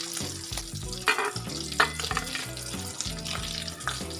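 Potato vada balls frying in hot oil give a steady, close crackling sizzle, with a few louder pops and spatters rising above the bubbling texture and no talking.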